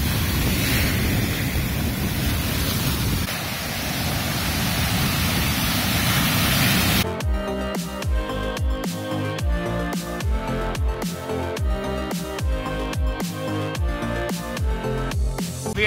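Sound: ocean waves at the beach at sunset

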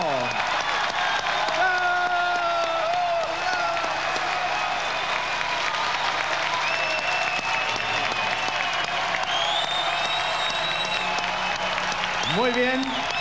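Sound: audience applause for a disco dance couple

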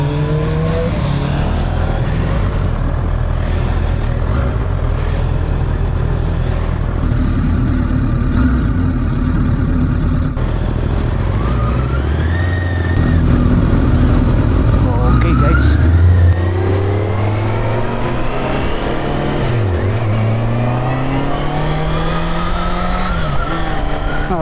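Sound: Honda CBR650R motorcycle engine riding twisty road

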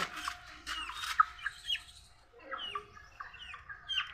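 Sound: small chicken clucking

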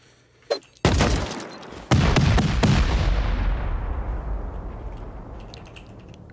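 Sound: C4 explosives detonating in the video game Rust

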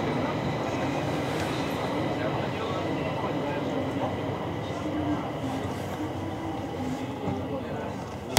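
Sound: train departing from platform at station

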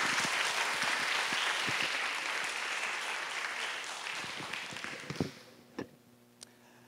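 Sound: audience applause welcoming the speaker

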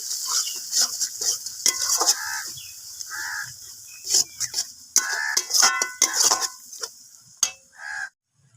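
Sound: sautéing spices (chili and turmeric powder) for fish dish

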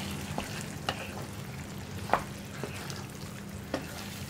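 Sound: stirring fresh cream into chicken curry

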